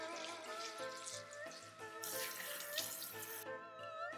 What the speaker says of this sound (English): Also quickly rinse the red yeast rice along with the dried red dates.